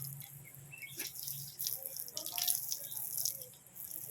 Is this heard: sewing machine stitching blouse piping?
no